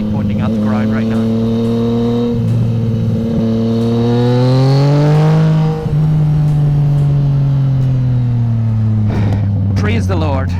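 Exhaust note of a Yamaha MT-09 Tracer (FJ-09) triple while riding, with the exhaust pointing toward the ground; a loud, steady engine drone that rises and falls gently in pitch throughout, with no voices.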